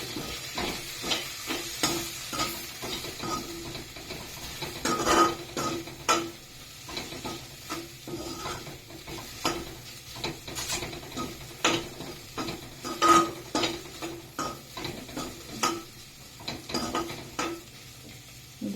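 A spatula stirs a dry-roasted ladies finger (okra) and egg masala with garam masala in a hot pan, with steady scraping strokes over a constant sizzle, close and busy with no voices.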